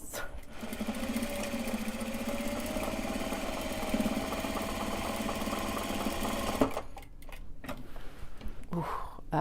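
A sewing machine stitches a seam through Japanese fabric, running in a steady, even whir for several seconds before stopping abruptly, followed by a few faint handling clicks and rustles.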